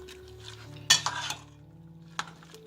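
A spoon stirs a homemade restaurant-style salsa mixture in a bowl, with a few close clinks and scrapes against the dish over about two seconds in a quiet kitchen, then a final light tap.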